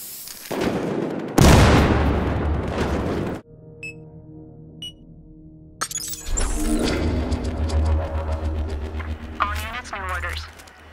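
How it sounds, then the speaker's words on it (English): A grenade goes off in the shooter game Battlefield Hardline, a loud burst of blast and shattering debris that cuts out abruptly, followed by faint pings and then renewed chaotic game noise with rumble and chirps. "How about a grenade?"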